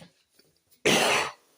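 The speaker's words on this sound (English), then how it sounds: "I was coughing for a bit." A person gives a single harsh, close cough lasting about half a second after a quiet pause.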